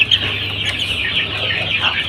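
Young 21-day-old chicks clucking and peeping in a coop, a continuous chorus of high chirps close by with a steady low hum underneath and no talking.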